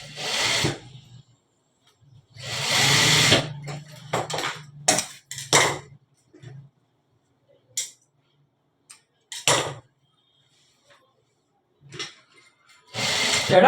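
A sewing machine stitches a pant zip in short bursts, each run of rapid needle clatter stopping and starting with quiet pauses between.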